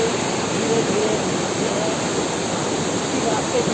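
Bamni Falls in Purulia, West Bengal, pours with a steady, dense roar of rushing water, even and unbroken throughout and fairly close.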